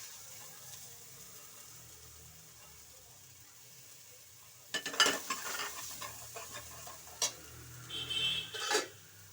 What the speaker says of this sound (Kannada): ಈರುಳ್ಳಿ ಎಲ್ಲ ಸ್ವಲ್ಪ ಫ್ರೈ ಆಗಿದೆ ಇವಾಗ ಮೆಣಸು ಪೌಡ್ರ್ ಹಾಕೊಳ್ಳಿ